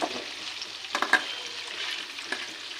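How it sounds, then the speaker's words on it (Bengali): Chicken pieces for Chinese-style chicken Manchurian sizzle and crackle in hot oil, a steady close frying hiss with a few sharper pops and stirring clatters. "চিকেনটা আমরা একটু হালকা করে ভাজবো।"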